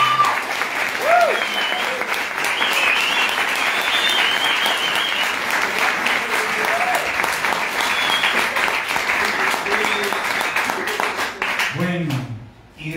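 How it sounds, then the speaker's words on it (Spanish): Loud, sustained audience applause fills a hall for two honored guests, dense clapping with occasional cheers and voices, holding steady before cutting off abruptly at the end as a speaker resumes. "Vamos a darles un aplauso."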